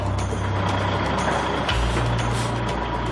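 A heavy lorry grinds and rumbles close by as it manoeuvres a railway carriage into a depot, its engine note dropping and shifting partway through under a steady high hiss.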